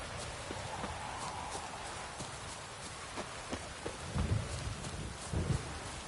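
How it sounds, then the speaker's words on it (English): In The Witcher 3: Wild Hunt on PS5, a lightning strike brings deep thunder rumbles over steady rain, with a horse's hooves clopping faintly and a few soft cracks nearby. "Lightning strike."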